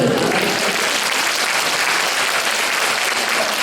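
A crowd at a school concert applauds steadily, with thick, continuous clapping heard from within the audience that holds at an even loudness throughout.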